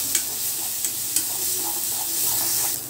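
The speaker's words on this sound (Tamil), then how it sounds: "இப்போ இதெல்லாம் நல்லா வதங்கட்டேன்." Garlic, cumin and spices sautéing in a pan for a goat brain fry: a steady close sizzle with a few sharp scrapes from stirring, alone without voices.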